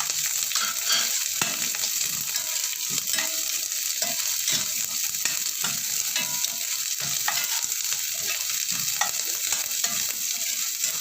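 Garlic frying in a pan for a home-cooked dish, a steady dense sizzle with frequent scraping stir strokes, close and loud throughout with no talking.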